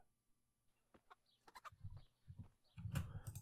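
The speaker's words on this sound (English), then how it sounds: "Some chickens. That was kind of loud." Chickens in the video game Kingdom Come: Deliverance cluck and murmur in short, low bursts, growing a little busier toward the end, fairly quiet and close.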